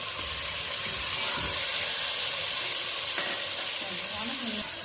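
Frozen peas frying with onions in a hot pan, a steady broadband sizzle running throughout with faint stirring scrapes and no talk.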